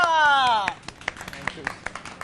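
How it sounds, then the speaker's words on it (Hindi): In a morning TV show studio, a host's voice is followed by a short burst of sparse, rhythmic applause for Chef Hassan, the head chef, with a handful of distinct claps close by. "शेफ हसन के लिए बहुत सी तालियां।"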